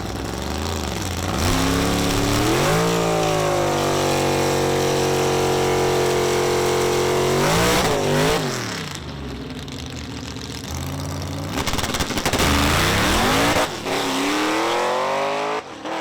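Tony Angelo's race car Blasphemi under throttle, its engine loud and close, revving up in long rising sweeps that hold high, drop back, then climb again in shorter bursts.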